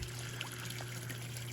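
Water trickling from a small waterfall into a backyard goldfish pond at night, a faint, steady, gentle splashing and dribbling with a low constant hum underneath.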